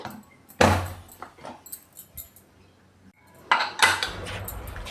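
The lid of a pressure cooker is closed in a home kitchen, giving two sharp metallic clanks a few seconds apart with quieter rattles in between.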